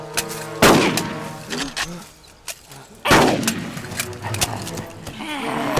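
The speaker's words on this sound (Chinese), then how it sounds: "你在这儿朝天开什么枪？" Two loud, close rifle shots fired into the air in a Chinese war drama set in wartime Northeast China, spaced a few seconds apart, each ringing out with echo and followed by scattered smaller bangs and voices.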